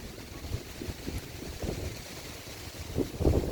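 Strong wind buffets the microphone in low rumbling gusts, rising and falling, with a steady outdoor roar and no speech, in Pandan, Antique, Philippines.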